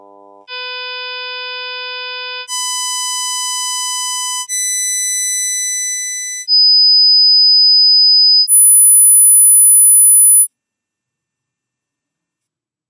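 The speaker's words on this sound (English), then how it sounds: "So we're going to listen to, complex tone" A synthetic complex tone built from stacked pure sine partials, played as a sequence of steady steps, each changing harmonic makeup and rising higher in pitch, ending on a single high thin tone, clean and loud with no talk.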